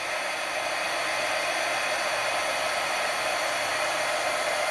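Milwaukee power tool switched on and running: a steady, loud, even whir that holds unchanged and alone without a break from start to finish.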